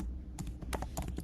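Quick keystrokes on a computer keyboard, a handful of close, crisp taps in an irregular rhythm over a faint background hum.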